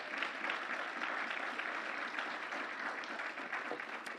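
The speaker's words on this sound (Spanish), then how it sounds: "Denle ese aplauso al Señor, no se quede con la gana." A church congregation claps for the Lord during a Spanish-language sermon, producing a continuous wash of applause that sounds somewhat distant and soft but steady throughout.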